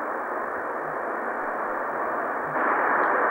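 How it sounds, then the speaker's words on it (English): Steady broadband rumble of Plumstead Road traffic in the distance, a continuous wash of passing vehicles with no speech. "you can hear the traffic from Plumstead Road in the background"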